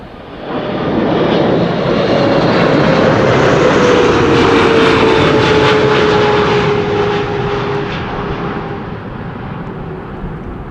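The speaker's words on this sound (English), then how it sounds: "Air France flight 6901 arriving from Nairobi, Kenya. That is a 777 freighter." An Air France Boeing 777 freighter, sixteen years old and arriving from Nairobi, lands at Amsterdam Schiphol on a windy day. Its loud, close jet roar swells, holds and slowly fades while a whining engine tone drifts downward.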